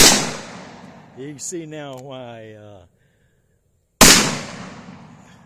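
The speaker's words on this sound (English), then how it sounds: "that was a 45 Colt" Single loud .45 Colt revolver shot at a shooting range, a sharp blast with a long decaying tail, heard near and alone; a voice speaks briefly before the shot.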